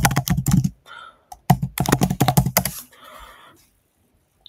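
Rapid bursts of keystrokes on a computer keyboard while an AI image prompt is entered, two dense typing runs separated by a short pause, then a quieter stretch of softer taps fading out.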